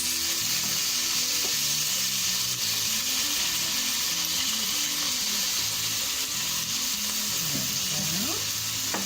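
Fresh garlic and ginger paste sizzle steadily in a hot pan for shrimp ramen with collard greens, a continuous close frying hiss with faint stirring and no talk.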